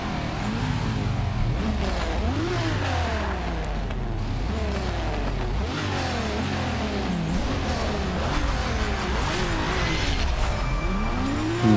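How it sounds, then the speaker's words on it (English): A Nissan GT-R and a Ford Mustang GT, all-wheel drive against rear-wheel drive, launch and accelerate in a race, their engines roaring loudly throughout with rising and falling revs as they shift gears. "All-wheel drive gets you out of the hole without an issue. Huge gap for the GTR before entering the first turn."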